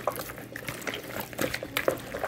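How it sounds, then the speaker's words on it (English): Water being added to a chicken marinade, heard as soft, irregular liquid trickling and splashing up close, with no talk over it. "I'm going to add some water to it."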